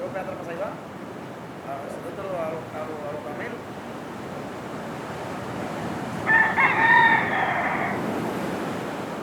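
Roosters crow beside the sea in Baracoa, Cuba, one drawn-out cock-a-doodle-doo standing out clearly over steady surf wash and faint background voices and clucking.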